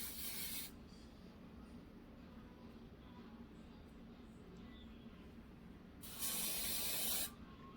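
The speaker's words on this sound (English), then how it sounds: "And this lace spray is kind of nice." Lace spray is misted from a can onto the lace of a handmade wig in two short hissing bursts, one at the start and one about a second long near the end, close to the mic in a quiet room.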